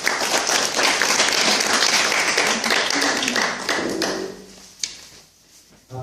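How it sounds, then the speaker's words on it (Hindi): An audience at a nature-cure health lecture claps loudly and densely, then the applause tapers off and ends with a few isolated claps and a thump. "उनके लिए ताली बजाइए जोरदार।"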